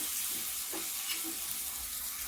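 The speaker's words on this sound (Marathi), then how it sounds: "एका साईडला सुरणाचे काप पण एका साईडने छान फ्राय झाले आहे आता दुसरी साईड पण आपण फ्राय करून घेऊया" Slices of suran (elephant foot yam) fry on their second side in a pan, giving a close, loud, continuous sizzle with a few soft scraping stirs; nobody speaks.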